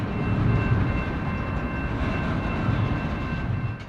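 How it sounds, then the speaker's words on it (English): A manifest freight train with a Union Pacific SD60M in its locomotive consist rolls past on the Clinton Sub in Iowa, a steady, loud rumble of wheels and cars that holds constant throughout with no talk. "the parked manifest now has the clear to continue its journey east"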